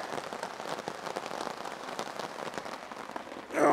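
Steady rain patters on a camping tent during a storm, a dense even hiss of drops with a louder burst of rattling at the very end.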